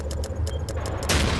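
A frag grenade explodes in the shooter game Ghost Recon Future Soldier: a loud, broad blast near the end, preceded by several rapid, evenly spaced bursts of gunfire.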